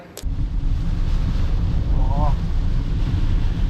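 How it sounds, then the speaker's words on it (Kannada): Heavy rain and strong wind batter a car on a drive toward Udupi, with a steady, dense roar that fills the whole stretch without letting up. "ಮಳೆ ಹೆವಿ ಬರ್ತಾ ಉಂಟು ವಿಂಡ್ ಕೂಡ ಒಳ್ಳೇದುಂಟಾ"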